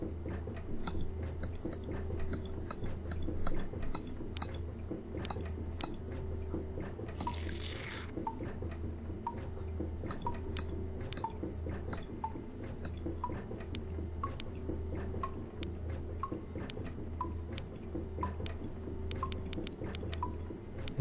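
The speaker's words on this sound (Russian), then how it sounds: "Теперь бак наполнен водой." Steady dripping and trickling of water into a tank in the game Fran Bow, a continuous series of small clicking drops over a low droning background, with no talking.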